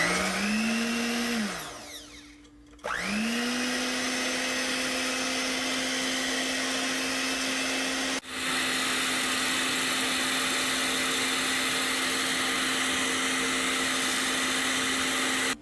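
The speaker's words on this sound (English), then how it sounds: "I am going to beat them till they form a foamy texture at medium speed" Electric mixer whirring steadily at medium speed as it beats egg whites to a foam, a loud continuous motor drone that briefly slows and drops out before resuming.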